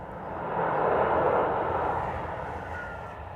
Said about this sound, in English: Wind is carrying the reverser noise right at us now